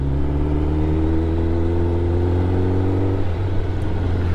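A motorcycle engine drones under a rider while cruising, a close, steady hum whose pitch slides gently downward as the bike slows, with rumbling wind underneath.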